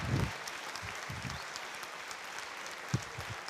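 An audience at an apprentices' diploma ceremony in Nice applauds, a faint, steady wash of many hands clapping heard from a distance, with a couple of louder nearby claps.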